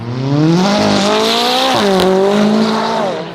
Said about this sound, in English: I don't think he realizes his car's spitting flames.